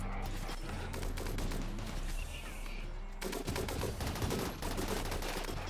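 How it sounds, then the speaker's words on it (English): Video game mechanoids open fire on turret dummies, a dense, continuous rattle of rapid gunshots that carries on for several seconds with only a brief dip partway through and no talking. "Mechanoids, go shoot the turret dummies and not the actual turrets."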